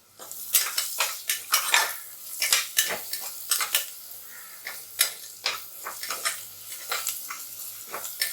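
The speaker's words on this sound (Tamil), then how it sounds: "வெங்காயம் நல்லா வதங்கிடுச்சு. இப்போ பச்சை மிளகாய் சேர்த்துக்கிறோம்." Green chilies sauté with softened onions in a pan for chicken biryani. The sizzle sits under busy, rhythmic scraping and clanking as a metal spatula stirs against the pan, with each stroke close and distinct and no voices.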